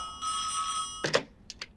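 A telephone rings with a sustained electronic tone, then gives a short louder burst and two quick chirps, heard close and clear.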